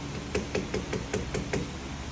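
Small hammer tapping down a metal bezel setting around a stone, seven light, evenly spaced metallic taps close by, each short and ringing slightly, over quiet background.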